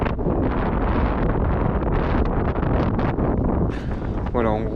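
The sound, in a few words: wind on a sailboat at night, about 20 knots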